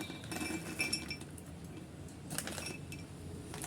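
Almonds drop into a glass container, giving a few light glassy clinks and rattles: one small cluster near the start and another a couple of seconds later. The sound is close but faint, with no voices.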